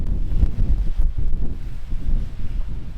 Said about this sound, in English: all of a sudden it'll be massive amount of gusty wind